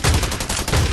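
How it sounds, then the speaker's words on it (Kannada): Rapid, loud gunfire from the ScarFall 2.0 battle royale game, with dense overlapping shots packed into a single second and no talking. "ಎಲ್ಲ ಶೂಟ್ ಮಾಡ್ತಿರೋ ಸೌಂಡ್ ಕೇಳಿಸ್ತಿದೆ."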